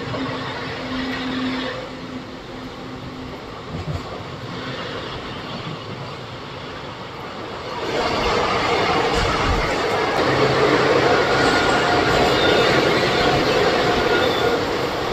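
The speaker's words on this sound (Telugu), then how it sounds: "ఫస్ట్ టనల్లోకి అయితే మన ట్రైన్ వచ్చేసి ఎంటర్ అయిపోతుందండి" A train rolls steadily on the rails and then enters a tunnel partway through, where the rumble grows louder and denser and fills the rest of the clip with a continuous roar and some wheel noise.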